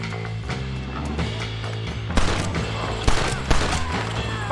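Gunfire in the video game Red Dead Redemption: loud, sharp shots crack out in a burst of about three reports over a steady, droning musical score.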